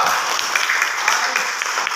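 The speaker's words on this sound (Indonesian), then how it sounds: "yang berdiri dulu tepuk tangan kepada kelompok 2." Group applause from a class standing up to clap for a presenting team, a steady wash of many hands clapping together throughout, fairly close and even in loudness.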